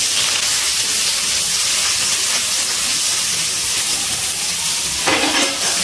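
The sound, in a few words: chopped onion frying in hot oil with garlic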